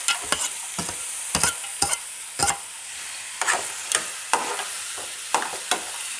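Tomatoes and cashews frying in a pan, with repeated sharp stirring scrapes against a steady hiss of sizzling oil, close and fairly loud with no talking.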